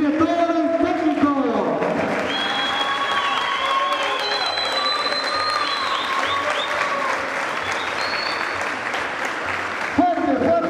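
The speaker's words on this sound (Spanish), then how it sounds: "Fuerte, fuerte el aplauso y la ovación para estos amigos, para estos chicos" Applause and ovation fill a room at a dinner honoring a champion fifth-division football team. Steady, loud clapping runs throughout, with tonal chatter and some cheering mixed in, and a speaking voice briefly at the start and end.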